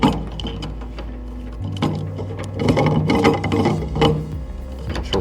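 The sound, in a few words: screwing the part back onto a Promax vacuum tumbler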